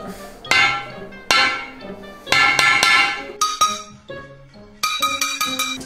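A hammer striking a porcelain toilet bowl, a series of sharp ringing clanks with glassy resonant tails, some isolated and some in quick clusters, loud and close.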